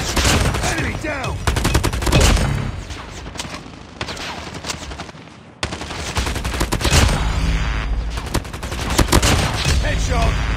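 Rapid bursts of BK57 assault rifle fire in the shooter game Call of Duty Mobile, loud and close, with dense repeated shots, a brief lull midway, then more sustained automatic firing.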